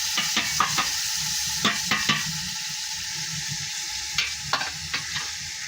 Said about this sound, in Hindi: थोड़ा सा पानी डालेंगे